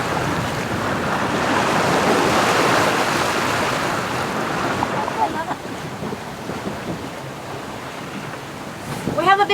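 A sailboat sails a beam-to-broad reach in strong Caribbean wind of roughly 17 to 22 knots, with steady wind roar buffeting the microphone over the rush and slosh of waves along the hull.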